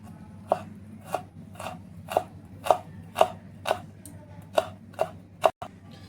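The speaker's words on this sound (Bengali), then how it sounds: "কয়েক কোয়া রসুন নিয়েছি, এগুলো কুচি করে নেব।" A knife minces garlic cloves on a board with about a dozen evenly spaced, close, crisp chops roughly every half second over a faint steady background hum.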